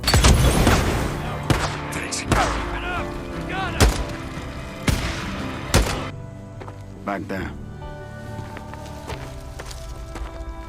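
Heavy thuds and bursts of gunfire from the video game Days Gone, several loud sharp impacts spaced irregularly over a lingering game soundscape, growing sparser and fainter toward the end.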